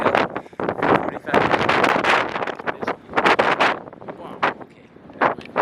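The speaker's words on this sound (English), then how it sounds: "Windy!" Heavy wind buffets the microphone in loud, irregular gusts that roar and rumble throughout, with brief lulls between blasts.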